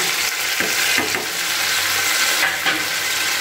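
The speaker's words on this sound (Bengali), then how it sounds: "এবার খুব ভালো করে এটাকে নাড়াচাড়া করে মশলাটাকে বেশ করে কষিয়ে নিতে হবে" A spice paste with a splash of water being stirred and fried in a pan: loud, close, steady sizzling with repeated scraping strokes of the spoon across the pan, no voices.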